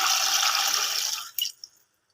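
Water is poured from a glass into a pot of spiced goat trotters, a close, steady splashing pour that tapers off and ends with a couple of final drips.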